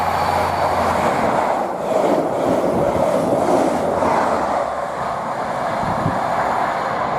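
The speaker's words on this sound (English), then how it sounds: "we have the new measurement train heading from London Paddington to" A new measurement train running from London Paddington to Derby RTC passes on the West Coast Main Line at Tamworth, a steady rolling roar of wheels on rails that swells slightly and then eases.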